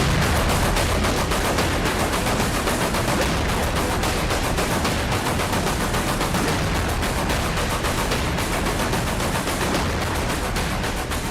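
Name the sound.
explosions from Russian missile strikes on Kyiv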